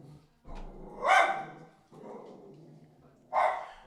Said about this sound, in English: my dog getting exciting about somebody at the door.